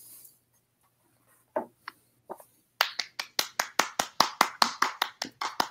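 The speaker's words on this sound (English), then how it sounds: "I hear ghostly applause from someone I can't see" Applause from an unseen participant in an online call, a few scattered taps and then a steady run of about a dozen distinct, evenly spaced claps, close and dry with no talk over it.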